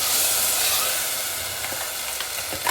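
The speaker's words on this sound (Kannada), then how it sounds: "ರುಬ್ಬಿಟ್ಕೊಂಡಿರೋ ಮಸಾಲೆನ ಈ ಎಣ್ಣೆಯಲ್ಲಿ ಸೇರಿಸ್ಬಿಟ್ಟು ಸ್ವಲ್ಪ ಚೆನ್ನಾಗಿ ಹುರ್ಕೊಳ್ಳೋಣ" Ground masala frying in hot oil for vegetable pulao: a steady, fairly loud sizzle and hiss throughout, with a few soft stirring scrapes near the end and no talk.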